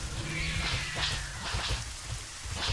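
Steady rain falls in the dinosaur video game Orion Prelude, a dense hiss of drops on surfaces with occasional sharper splashes and a low rumble underneath, heard alone without talk.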